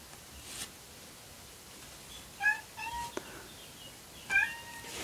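A pet cat meows several times, close and clear, in short tonal calls over a quiet indoor background.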